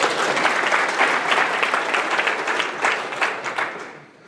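Audience applause at a Swift programming conference talk, a full burst of many hands clapping that swells briefly and then tapers away near the end.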